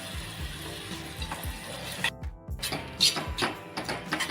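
A spiced eggplant bharit mixture sizzles steadily in a pan while being stirred, with soft repeated scraping strokes under a constant low frying hiss.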